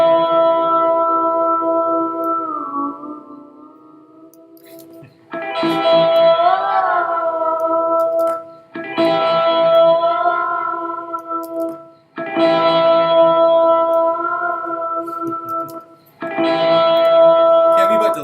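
A sustained tone fed through a stereo delay effect plugin on a DAW track, heard in long phrases with gaps between them. It has a rich harmonic, echoing character, fairly loud, and no one talks over it.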